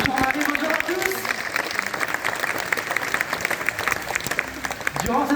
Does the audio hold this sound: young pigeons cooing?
no